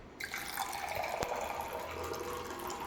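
Water poured from a tap or jug into a glass for drinking, a steady close trickling and filling sound with one sharp click partway through, no talk.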